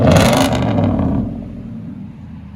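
A Nissan Titan 5.6L V8 with a loud aftermarket exhaust lets out a short, deep, throaty rev close by that quickly drops back to a low rumbling idle.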